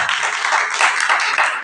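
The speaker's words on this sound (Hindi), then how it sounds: "एक बार और ताली बजाओ।" A church congregation claps their hands together in a dense, steady burst of applause, close and loud, continuing without pause throughout the clip.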